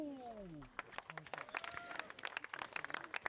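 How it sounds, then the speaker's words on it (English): Scattered, faint applause from spectators at a disc golf gold medal match in the World Team Championships, Australia versus Estonia, with light irregular claps continuing after a voice fades out. "So it looks like we're getting some clapping here."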